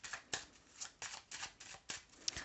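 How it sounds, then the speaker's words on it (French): Tarot cards being shuffled ahead of a 13-card spread, a quiet, soft riffling texture with repeated brisk bursts of paper flicking, close and alone with no voices. "On va faire un tirage à 13 cartes pour le relationnel général."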